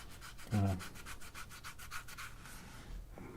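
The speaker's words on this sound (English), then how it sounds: "So we'll just scrub." A small DJI Neo drone is scrubbed to remove caked-on grass, giving rapid rhythmic rubbing strokes, close and fairly quiet, after a brief knock at the start.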